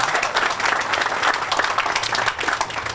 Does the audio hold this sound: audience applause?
yes